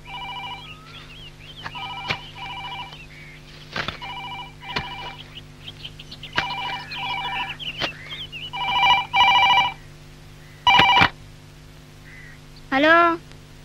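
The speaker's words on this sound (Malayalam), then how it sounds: "ഫോൺ." An old-fashioned telephone rings in repeated bursts of bells, loud and nearby, with other tonal sounds, clicks and a voice in between the rings.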